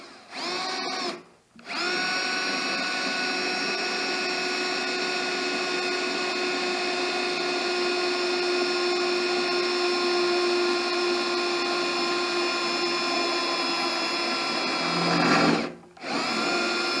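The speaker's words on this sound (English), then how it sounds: "Now I'm drilling, it wants to move." A power drill runs steadily while boring holes in a Cub Cadet mower deck, producing a loud, sustained whine. Brief pauses come near the start and the end, with the motor spinning up again after each.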